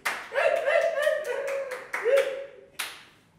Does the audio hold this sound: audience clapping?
yes